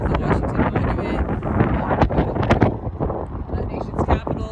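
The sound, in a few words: wind blowing on a cold day near the Washington Monument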